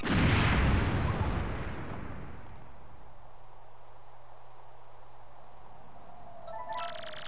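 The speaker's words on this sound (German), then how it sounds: "Die haben sich jetzt einfach in die Luft gesprengt?" A loud explosion booms at the start in the Paper Mario 2 video game, a broad blast that decays over about two seconds into a low steady hum, with a brief brighter game tone near the end.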